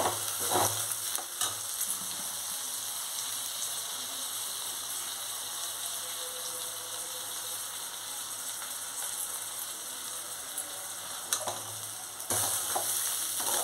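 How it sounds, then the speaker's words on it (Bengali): Vegetarian pulao rice fries in a pan while being stirred, with a steady close sizzle and occasional scraping clatters of the spoon against the pan. "এবার এটা ভালো করে নাড়তে হবে।"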